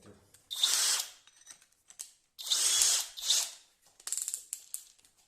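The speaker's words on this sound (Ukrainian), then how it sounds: "Почнемо із бура по дереву на 16 мм." A Pro-Craft PA 18Pro BL brushless cordless drill turning a 16 mm wood bit whirs in two strong, close bursts, then ratchets in a string of short clicking pulses as the clutch slips.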